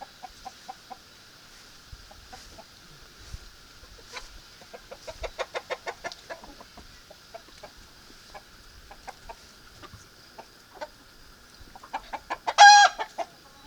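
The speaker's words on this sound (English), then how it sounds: "Let's go see what the chickens are doing. They're having a fit." Several chickens cluck in quick, agitated bursts, with sharper squawks rising near the end; fairly close, no talking.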